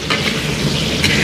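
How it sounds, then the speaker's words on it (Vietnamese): Sweet potato pieces sizzle in hot oil in a home kitchen, a steady close crackle and hiss with no talking. "Cái này mình chiên hơi hơi thôi."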